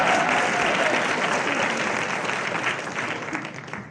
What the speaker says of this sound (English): Poses for audience applause